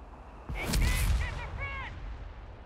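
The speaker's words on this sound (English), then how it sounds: "There we go, sniper sniping away." A single sharp sniper rifle crack from Company of Heroes 3 bursts out, followed by a ringing tail and brief chirpy game sounds and voice-like calls.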